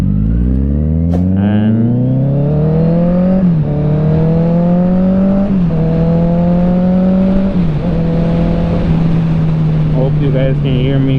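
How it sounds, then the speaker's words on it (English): Motorcycle riding noise inside an Icon Airflite helmet: a steady loud engine drone rising in pitch through several gear shifts, with wind rush throughout and a rider talking over it. "this is what it sounds like with me riding"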